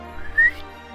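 A narrator's voice imitates a short rising whistle, a single brief close-up tone in a quiet setting.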